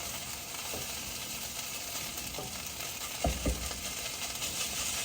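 Shredded hashbrowns sizzle steadily in a frying pan, with a couple of soft scraping thumps as they are stirred midway through.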